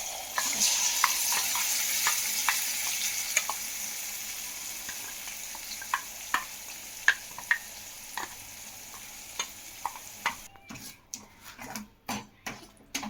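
Bottle gourd and tomato chutney is stirred in a hot pan, with a soft sizzle under sharp spoon taps and scrapes against the pan, the clicks growing choppier near the end.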